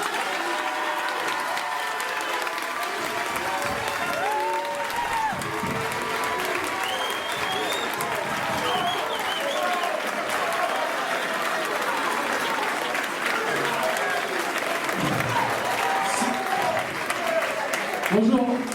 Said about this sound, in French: J'aimerais donner un applaudissement pour mon père qui est juste là.